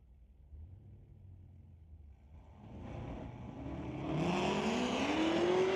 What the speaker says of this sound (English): Oh boy, that Corvette on a tear, chasing after the Acadian.